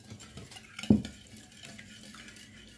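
A utensil stirs milk into cookie dough in a bowl, with soft scraping and one sharper clink of metal against the bowl, fairly quiet and close.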